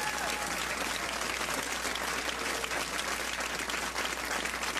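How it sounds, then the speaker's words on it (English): Dense, steady applause from a television studio audience at a comedy sketch talk show, loud and continuous for the whole stretch without a break. "Give her a big round of applause"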